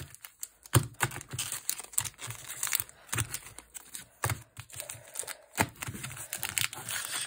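Quick, irregular crinkly clicks and rustles of Stellar Crown trading card foil packs being shuffled together by hand, close and fairly quiet.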